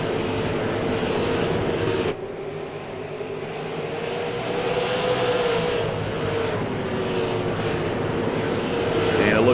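Super late model race cars lapping Oxford Plains Speedway: a steady, loud engine roar with pitch sweeping as cars pass, dipping briefly, then building again, with crowd and track ambience underneath.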